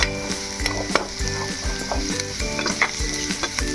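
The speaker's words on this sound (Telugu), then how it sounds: "ఇలా కొంచెం ఫ్రై చేసుకోవాలి" Egg fried rice fries in a pan with a close, steady sizzle, broken by rhythmic scraping and clinking as a utensil stirs and tosses the rice against the metal.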